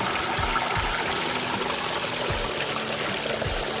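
Shallow creek water in an Ohio woodland trickling and burbling over stones, a soft, steady flow with small splashy gurgles, moderately close and without voices.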